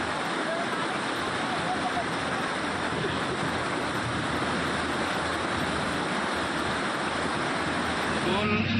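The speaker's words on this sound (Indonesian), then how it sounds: "luapan air yang sekarang ini masih terus mengalir di aliran lahar itu" Lahar floodwater surging through a river channel after a flash flood in Lumajang, a steady loud broadband rush of turbulent water that holds constant throughout, with no voices.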